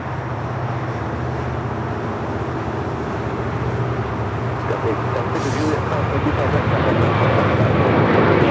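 Qatar Airways airliner at Los Angeles LAX airport, a steady loud jet engine roar that holds and builds slightly across the clip, with a broadband rush and low rumble throughout and people talking faintly over it.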